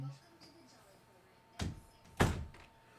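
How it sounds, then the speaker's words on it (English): A household door is pushed shut in two dull thunks about half a second apart, the second louder and heavier, after a stretch of quiet room tone. "Close my door, please."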